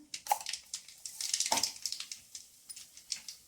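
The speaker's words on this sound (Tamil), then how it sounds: "அடுப்பில் கடாய் வச்சு எண்ணெய் ஊற்றி கடுகு போடுறோம்" Mustard seeds spluttering in hot oil in a kadai, a dense stream of small crackling pops that swell in the middle and then thin into scattered sharp snaps, close and fairly quiet.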